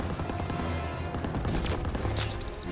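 Heavy covering gunfire from the Call of Duty: WWII mission Hardened on Hill 493: dense, continuous volleys of rifle and machine-gun shots with sharp bursts, loud and close, filling the whole stretch with no speech.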